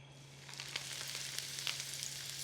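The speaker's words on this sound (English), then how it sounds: "I'm gonna keep my chiles in this spider the whole time that I fry them" A soft, steady sizzle of chiles frying in hot oil while held in a spider strainer, with faint crackling pops throughout, quiet and close, under a low constant hum.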